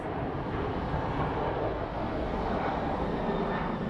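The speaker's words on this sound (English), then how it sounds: "Late takeoff." A jet airliner roars steadily on a late takeoff at Phoenix Sky Harbor International Airport, a loud, continuous broadband engine rumble holding level throughout with no voices.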